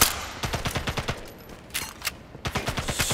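Gunfire from the video game Sniper Elite 5 comes in rapid bursts of sharp shots: a fast run at the start, a couple of isolated cracks in the middle, then another quick volley. No talk is heard over it.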